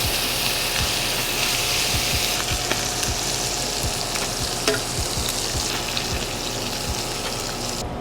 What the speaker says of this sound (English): in goes the mushroom. I'm gonna saute these, let them cook most of the way